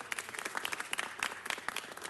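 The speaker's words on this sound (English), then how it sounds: "Let's give her a big round of applause." Applause for a hospital president at a city council meeting, a dense burst of many hands clapping steadily across the room for about two seconds, with no talk over it.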